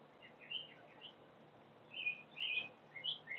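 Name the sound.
birds chirping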